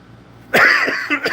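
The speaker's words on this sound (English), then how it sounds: "I'm gonna cough here and there" A single sharp cough bursts out after a moment of quiet, followed by a couple of smaller throaty coughs.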